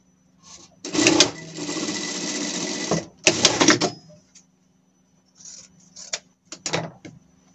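A sewing machine stitches a seam on a Paw Patrol Chase costume, loud close mechanical whirring in one long run and a shorter burst, followed by a few brief stop-start pulses.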